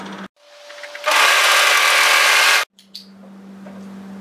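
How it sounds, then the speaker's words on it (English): An overlocker stitches the short seam of a folded cuff for a lounge top, a single loud sustained whirring burst of about a second and a half, with a low steady machine hum before and after. "overlock that short seam"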